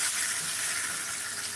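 Bologna slices frying in hot oil in a pan give off a steady, close, even hiss of sizzling with no pauses and no talking.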